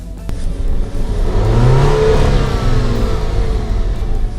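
Near, loud and steady engine roar of an Alfa Romeo Stelvio SUV with a 4-cylinder turbo as it accelerates on snow, pitch climbing as revs rise, continuous and without speech.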